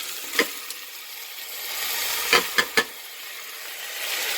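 Chopped carrots sauté in an Instant Pot for an Italian-style sausage soup, giving a faint, steady sizzle with a few sharp stirring clicks and scrapes near the middle of the clip.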